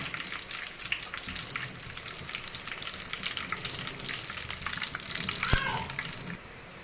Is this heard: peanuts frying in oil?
yes